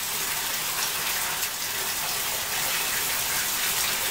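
Steady gush of tap water filling a baby's bathtub, loud and close, running continuously without a break and with no talking over it.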